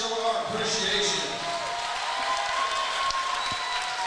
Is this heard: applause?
yes